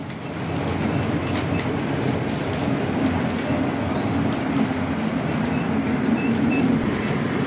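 A model railway freight train, a mixed rake of steel carriers hauled by a Freightliner locomotive, runs with a continuous rolling rumble and light wheel squeal, steady and close throughout with no talk.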